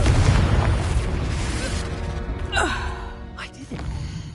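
A Confringo blast spell goes off in Hogwarts Legacy with a heavy, close boom that rolls away. Short gasp-like vocal sounds follow over the fading rumble.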